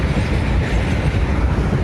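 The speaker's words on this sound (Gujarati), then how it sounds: "પાછી બીજી ટ્રેન આવી ગઈ" A train passes close by, a loud, steady rumble of wagons and wheels on the rails that fills the whole moment without a break.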